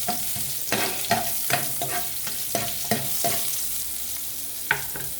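Vegetables and onion sauté in a hot pan for a low-carb dish, with a constant loud sizzle and a rhythmic series of spatula scrapes and taps roughly every half second.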